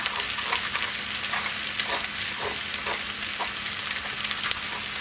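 Egg scrambling in a hot pan for fried rice gives a steady, dense sizzle and crackle. Soft scrapes and stirring taps recur throughout, close by, with no voices.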